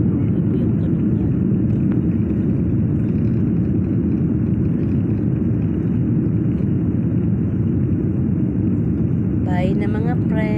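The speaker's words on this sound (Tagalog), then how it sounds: "Ingay po na narinig nyo, yun po ay yung ingay ng eroplano." Airplane engine noise during a departure flight, a steady, loud broadband rumble that fills the whole clip with no breaks, and a voice briefly breaks in near the end.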